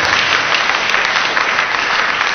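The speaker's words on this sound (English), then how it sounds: "Give him an applause, a huge applause." Loud, dense applause from a church audience during a sermon, a continuous roar of many hands clapping without pause and with no voices over it.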